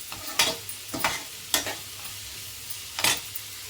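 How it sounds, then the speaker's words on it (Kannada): Capsicum frying in a pan, with four sharp scraping stirs spaced a second or so apart over a soft background sizzle. "ಅದ್ರ ಜೊತೆಲಿ ನಾವು ಕ್ಯಾಪ್ಸಿಕಮ್ನ ಕೂಡ ಸೇರಿಸ್ಕೊಂಡ್ಬಿಡೋಣ ಸ್ವಲ್ಪ ಹಸಿ ವಾಸನೆ ಹೋಗುವವರೆಗೂ ಫ್ರೈ ಮಾಡ್ಕೊಳ್ಳಿ"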